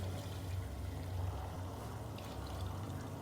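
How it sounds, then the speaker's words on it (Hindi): Water, about two cups, poured onto potatoes and sautéed vegetables in a cooking pot for a potato masala, a steady continuous pouring wash with a low rumbling undertone throughout, with no talking. "मैं पानी डाल दूँगी 2 कप के करीब।"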